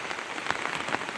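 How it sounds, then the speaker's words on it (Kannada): Rain pouring on a farm plantation, a continuous dense hiss with scattered close patters, steady and unbroken with no voices. "ಇವತ್ತು 2 ತಾಸು ಮಳೆ ಬಂದೈತಿ"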